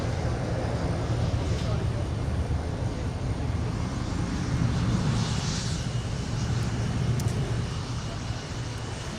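KLM airliner at Minneapolis-St Paul airport, its jet engines giving a steady, broad roar at moderate distance throughout, with voices talking faintly under the noise.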